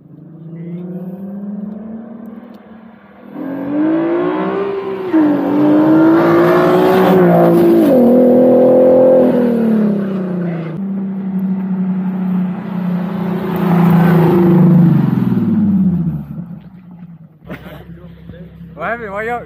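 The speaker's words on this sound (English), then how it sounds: "Josh's e-bike racing a 370Z." A Nissan 370Z races an e-bike, its engine roaring loud and close as it revs up through rising sweeps, easing, then climbing again before cutting off abruptly near the end.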